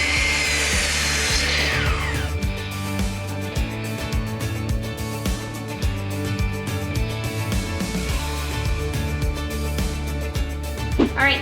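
A power saw cuts wooden boards down to plank length for a farmhouse-style desk, a loud, sustained whine and grind that runs nearly the whole time with shifting pitch as the blade moves through the wood.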